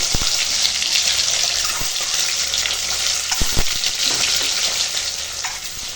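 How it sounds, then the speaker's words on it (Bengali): Marinated eggs fry in hot oil for a Bengali egg curry, giving a steady, loud, close sizzle with a few sharp crackles and pops and no talking. "মাখানো ডিমগুলো ভেজে নেবো"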